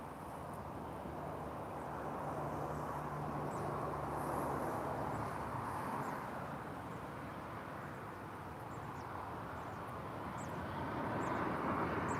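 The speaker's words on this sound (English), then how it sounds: "Another Boeing 737." A Boeing 737 airliner comes in to land at Lisbon airport, its jet engines a broad, steady roar heard from a distance, sustained throughout with a faint low drone underneath.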